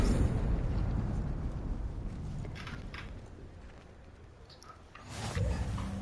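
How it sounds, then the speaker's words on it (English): A troll in Hogwarts Legacy bursts apart from a spell in a loud, rumbling explosion that slowly fades, then swells again with another low blast. "Oh, I made him explode."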